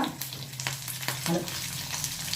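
Coriander and onions frying in coconut oil sizzle at a low, even level nearby, with a few light stirring clicks and scrapes.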